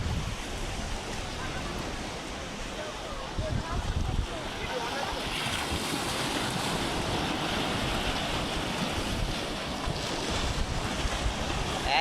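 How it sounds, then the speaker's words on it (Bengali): Sea waves wash in steadily at Digha Mohona, a broad rushing surf heard up close with strong wind buffeting the microphone throughout. "সব চলে আসছে জল, দেখতেছো?"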